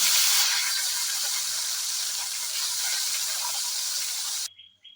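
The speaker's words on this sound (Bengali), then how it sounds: "কড়াই গরম হয়ে গেছে, এবার মাছগুলো দিয়ে দিলাম" Rohu fish frying in hot mustard oil in a wok, a loud continuous sizzling hiss that starts abruptly, stays steady for several seconds, then cuts off.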